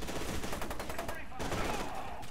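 P90 submachine gun fire in the shooter game FEAR 2, heard as rapid bursts of close, sharp shots that briefly stop and then resume, with no talking.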